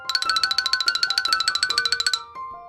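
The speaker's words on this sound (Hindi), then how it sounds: "और एक छुपी हुई घंटी बज उठी।" A bright cartoon bell effect rings out in a quick run of about twenty evenly spaced metallic chimes, loud and close, then fades into a few softer tones, with no voices over it.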